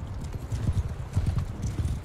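Horses gallop in the video game Mount and Blade Bannerlord, a fast, close run of rhythmic hoof clip-clops during a cavalry charge, with faint voices in the background.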